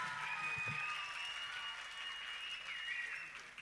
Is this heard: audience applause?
yes